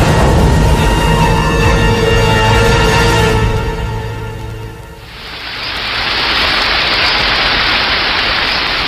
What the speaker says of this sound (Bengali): কিন্তু তখনও সমানভাবে বৃষ্টি ঝরছে আর ঝরছেই।